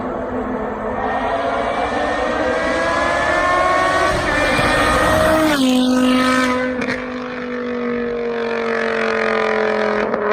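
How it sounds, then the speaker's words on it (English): A BMW car engine runs loud and close with a smooth, continuous, harmonically rich drone, its pitch sliding down partway through and then holding steady. "But I mean, what an engine! And probably top 3 best sounds of all time."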